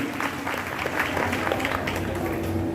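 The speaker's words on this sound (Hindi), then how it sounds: "एक बार जोरदार ताली हो जाएगी" Applause from an audience at a Ramayan satsang gathering in Delhi, a steady moderate patter of clapping with faint crowd murmur and a low musical drone underneath.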